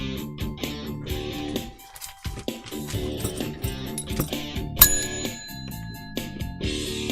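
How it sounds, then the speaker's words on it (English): A bell rings out once, a sharp bright ding that rises sharply above a busy rhythmic music bed partway through, within a comedy podcast episode. "That bell means I got it."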